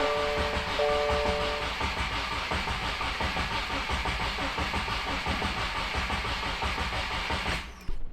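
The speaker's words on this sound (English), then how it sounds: "We're going to step on the gas pedal and then just crank the start." A Subaru WRX being cranked and started: a steady, loud mechanical churn runs for about eight seconds with a dense rhythmic texture, then cuts off abruptly near the end, with no talking.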